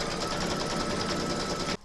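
A home embroidery machine runs a steady, dense buzzing stitch as it works batting taped over an outline in the hoop for an in-the-hoop heart banner, then stops abruptly near the end.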